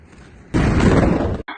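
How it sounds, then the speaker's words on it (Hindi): A missile strike explosion in Beersheba erupts suddenly and loudly after a quiet stretch, a broad roaring burst that sustains for about a second before cutting off abruptly. "अंत में देखिएगा धमाका कैसे होता है"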